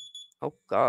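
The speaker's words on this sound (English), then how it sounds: "Oh, that's my alarm going off." Steady high-pitched electronic alarm tone sounding briefly at the start, then cut off as a voice speaks over a quiet background.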